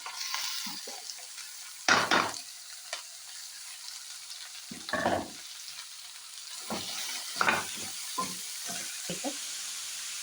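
Chopped onions hiss and sizzle in a hot chicken curry pan in a Kerala kitchen, a steady close frying crackle broken by bursts of spoon stirring and scraping against the pan.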